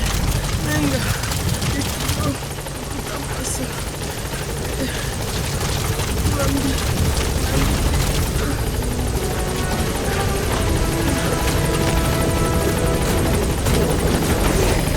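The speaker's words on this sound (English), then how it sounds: "Support helicopter has arrived." A support helicopter arrives in the video game Metal Gear Solid V: The Phantom Pain, its rotor throbbing loud and continuous throughout, with scattered game effects layered over the engine drone.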